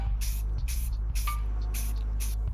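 Spray paint applied as a second coat with a sweeping motion, heard as about five short, even hissing bursts in a steady rhythm over a low, constant hum.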